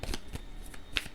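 Tarot cards are shuffled in a few quick, soft riffling bursts, close and fairly quiet, with no talking.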